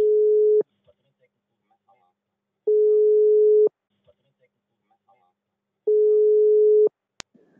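Telephone line tone on a call to a priest: three long steady beeps repeating with gaps of silence between them, then a sharp click at the end, alone and fairly loud.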